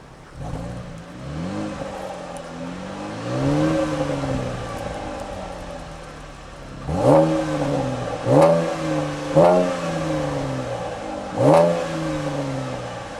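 Stock exhaust on a 2014 Chevrolet Camaro V6 convertible, heard from the rear: a steady idle rises into several sharp revs, with a long swell early on and then four quick blips that climb and drop back to idle.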